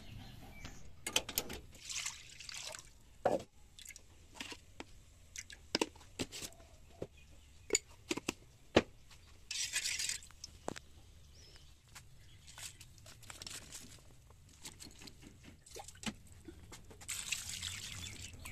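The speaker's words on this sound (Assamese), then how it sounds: "হয়, এতিয়া বইল হৈ গ'ল।" A pot of water boils on the stove while Malabar spinach greens cook, giving faint, irregular bubbling and popping with soft ticks throughout. Occasional birdsong sounds in the background and no one speaks.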